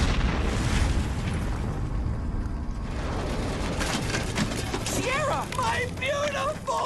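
Cartoon plane explosion from the animated series Total Drama, a loud sustained blast with rumbling bursts and crackling debris throughout, followed by a higher whistling or wailing tone near the end.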